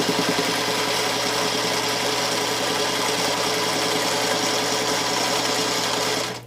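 A sewing machine runs steadily, stitching quilt pieces for a Unit S block from a JN pattern, a continuous close mechanical whir with fine rapid needle ticking throughout, stopping abruptly at the end.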